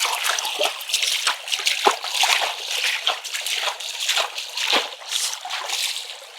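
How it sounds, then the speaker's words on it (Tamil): Close, steady flow of water sloshing and trickling along an irrigation channel beside a field, with small splashes and gurgles throughout. "இந்த வயல் ஓரமாக இருக்கிற இந்த வாய்க்கால தண்ணி வந்து எவ்வளோ அழகாக ஆடிக்கொண்டிருக்குது"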